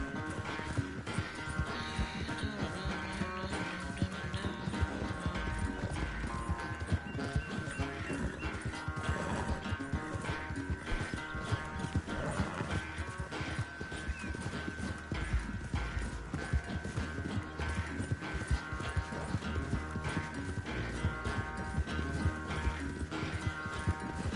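Horse hooves pounding in a steady clip-clop gallop in Red Dead Redemption 2, running continuously under a dense bed of game music and ambience, with no talk.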